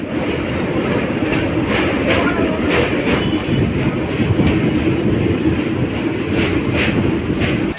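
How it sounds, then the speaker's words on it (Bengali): A train rumbles loudly and continuously across a double-decker road-rail bridge in Varanasi, rhythmic clickety-clack of wheels over the rails, a steady heavy roar from close by. "ডবল ডেকার ব্রিজটি অর্থাৎ নিচ থেকে চলে ট্রেন উপর থেকে চলে গাড়ি"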